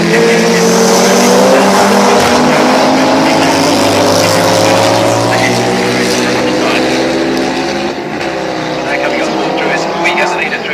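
Race cars lap Oulton Park circuit, engines roaring loudly with rising and falling pitch as they pass close by, layered over continuous track noise.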